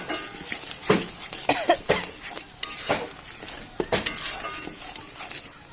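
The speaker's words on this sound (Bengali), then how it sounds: "এবার দিয়ে দিচ্ছি এর মধ্যে লবণ, দিয়ে দিচ্ছি হলুদ। ভালো করে নেড়ে মিশিয়ে নেব।" A spoon stirs ground coffee-leaf paste with salt and turmeric in a pan, giving repeated close scrapes and clinks against the metal in an uneven rhythm, with no talk.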